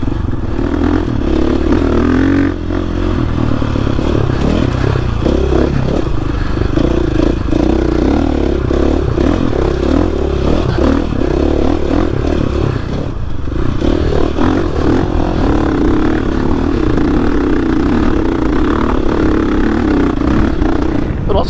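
A 2021 GasGas EX-450F dirt bike lugs in second gear up a trail, its four-stroke engine thumping low and heavy under steady load, with clattering and scraping from the terrain throughout.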